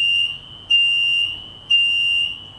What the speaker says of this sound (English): That's why you might hear a bell going off like that.